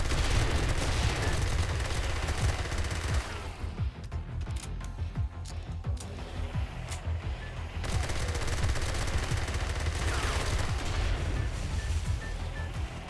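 Kamikaze enemies blowing up in the game 7 Days to Die, a dense barrage of sharp blasts and crackling detonations that keeps going without a break, loud and heavy, with no talking over it.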